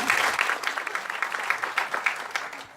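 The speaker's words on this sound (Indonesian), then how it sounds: "Tepuk tangan dong buat kita semua." Audience applause at an Indonesian marketing presentation, a steady dense patter of many hands clapping at moderate level, fairly close, with no talk over it.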